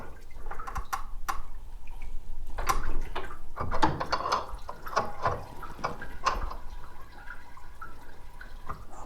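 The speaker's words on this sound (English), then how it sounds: "if that radiator doesn't stop peeing soon" Coolant drips from the radiator of a 1965 station wagon, a scatter of close, irregular splats and plinks over a low background hum, with no talking.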